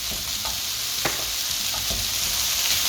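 Green chilies frying in a pan with garlic for burnt garlic veg fried rice, a steady close sizzle with occasional stirring scrapes, no talk.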